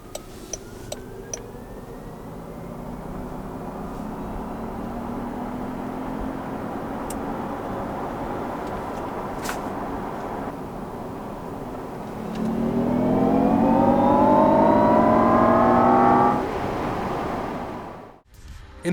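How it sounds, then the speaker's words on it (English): A 2019 Jaguar I-PACE electric car drives with a steady wash of wind and tire roar, rising to a louder, denser rush of road noise near the end before cutting off abruptly. "all you hear is the sound of the air passing over the body and the tires pulling over the road."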